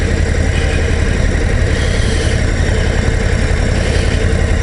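Harley-Davidson Low Rider ST motorcycle engine running steadily, a loud continuous low rumble with a dense throb and no voices, heard close up.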